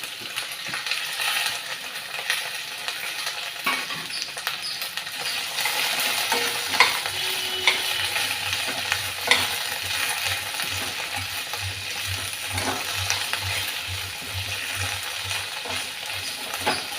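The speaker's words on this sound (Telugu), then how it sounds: "బెండకాయ ముక్కలు వేస్తున్నాను. ఇవి ఒక 5 నిమిషాలు వేయించుకోవాలి శుభ్రంగాన." Okra pieces frying in a pan for a tomato curry, a steady crackling sizzle with scattered metallic scrapes and stirring clinks throughout.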